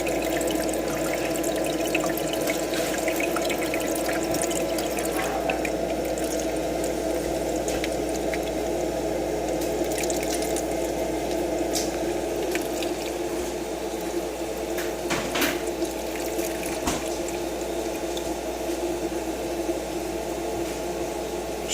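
Water steadily circulates and trickles inside a Dometic HZB-12SA portable ice maker. A constant motor hum sits underneath, and the sound stays even and close throughout with no talking.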